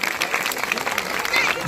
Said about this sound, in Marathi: सर्वांनी टाळ्या वाजवून स्वागत करावं.